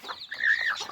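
A desi hen lets out a single short, bright cluck close up, rising and falling within a second.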